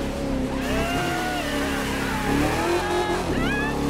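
A limousine speeds through Miami streets in a driving video game, its engine droning and revving loudly while tires squeal in wavering pitches, with speech mixed in beneath the continuous car noise.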